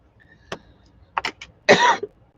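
A person coughs and clears their throat in a quiet room, a short single cough followed by a few quick hacks and one longer, rougher cough, close and fairly soft.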